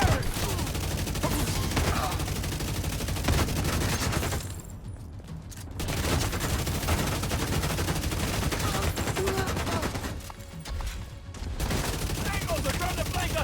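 Heavy gunfire fills a firefight in The Division 2, with dense, sustained bursts of automatic fire that pause briefly twice before resuming, and voices calling out over the shooting.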